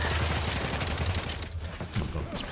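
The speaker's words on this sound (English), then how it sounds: "Oh my god, this pistol's awesome" Pistol fire in The Outer Worlds 2, a dense run of rapid shots and impacts within busy game noise, loud and close, with a short lull midway before more firing.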